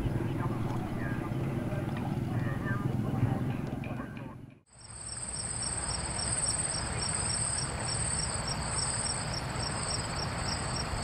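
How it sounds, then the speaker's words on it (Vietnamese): Insects call across a rural field at night, first as a dense low chorus, then a sharp shift to a loud, close, steady pulsing cricket-like trill. "Cả một cánh đồng cùng dậy lên tiếng kêu của côn trùng và ếch nhái."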